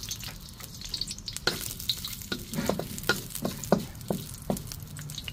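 Boiled ginger sautéing in a pan gives a close, continuous sizzle broken by repeated scraping stirs and clacks of a utensil, with no voices.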